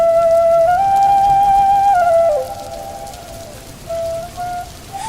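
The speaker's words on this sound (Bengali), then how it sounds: "এই বৃষ্টি কি আর থামবে না?" Heavy rain pours over a village with flooded paddy fields, a steady hiss running throughout beneath a loud, wavering whistle-like tone that drops away midway and briefly returns.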